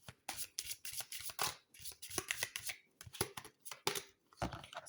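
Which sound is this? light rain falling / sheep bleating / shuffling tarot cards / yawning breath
shuffling tarot cards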